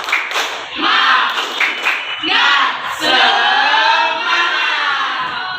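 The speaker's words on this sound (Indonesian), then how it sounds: "Ikut ibu ya. Tepuk semangat." A school class doing a spirit clap together, a few sharp claps then loud shouted chanting from many young voices, close and energetic.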